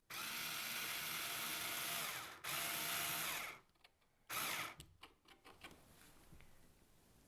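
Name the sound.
screwing a screw into a picture frame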